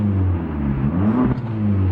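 A 2015 Fiat 500 Abarth's engine hums loud and steady at low pitch with a slight rise and one brief crackle partway through, close and continuous.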